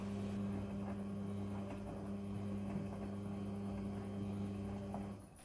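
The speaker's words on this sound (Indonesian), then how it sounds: "Mesin cuci kemudian akan berputar dan proses mencuci dimulai." A Midea front-loading washing machine turns its drum as the wash cycle starts, making a close, steady mechanical hum with constant motor tones that runs evenly and then cuts off at the end.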